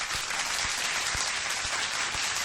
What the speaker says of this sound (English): A round of applause to the chat.